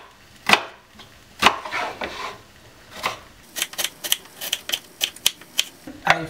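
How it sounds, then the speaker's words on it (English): A knife chops half an onion into small pieces on a board for a ricotta and courgette pasta sauce. A few spaced cuts give way to quicker, sharp, rhythmic taps, close and clear with no talking. "Slicing the onion in small pieces."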